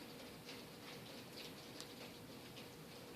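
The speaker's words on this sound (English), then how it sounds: "it's just been a nice steady downpour for a while" Steady rain downpour falling outside on a June evening, a dense continuous hiss with faint patter that holds at an even level throughout, without thunder.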